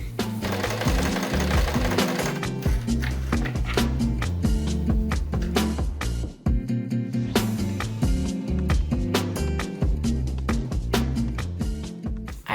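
A sewing machine hems a thrifted dress, its needle hammering in a fast, steady mechanical rhythm, loud and close, with one brief pause midway.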